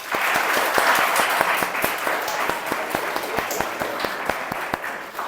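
An audience claps for sixth-grade students at a school event: a dense run of steady applause with crisp, closely packed hand claps that holds for the whole stretch and eases slightly toward the end.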